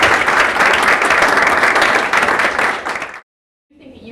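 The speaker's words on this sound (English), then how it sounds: "all join me in a round of applause" A panel audience applauds, the clapping steady and full for about three seconds before it cuts off abruptly, leaving a brief silence and a faint restart.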